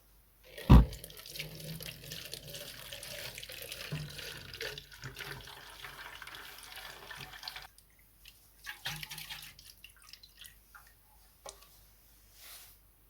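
Stale, bad fuel poured by hand into a Meec SN210 snowblower: a steady, close liquid stream runs for several seconds, then breaks into scattered trickles and splashes before stopping.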